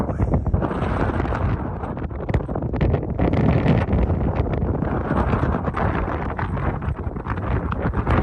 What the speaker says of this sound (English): It's cold and the wind's blowing. 50-mile-an-hour gusts